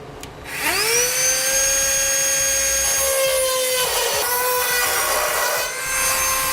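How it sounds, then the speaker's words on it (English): A rotary tool cuts through a steel truck frame piece during a gooseneck trailer hitch installation on a 2012 Ram 3500, a loud sustained high whine that spins up quickly, dips briefly as it bites, then keeps grinding, with no talk. "I'm gonna use a rotary tool."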